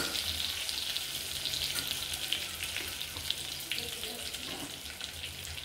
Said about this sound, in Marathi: ब्राऊन डाग पडले की समजायचे आपले वांगे छान परतून झाले।